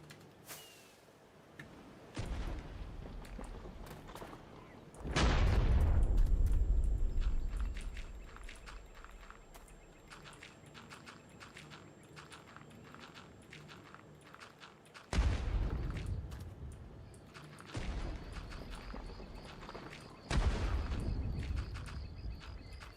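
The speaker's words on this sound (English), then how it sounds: "Why are we getting explosions?" Several heavy TNT blasts in Minecraft boom out one after another, each a loud burst with a rumbling tail, separated by quieter stretches of small clicks and steps.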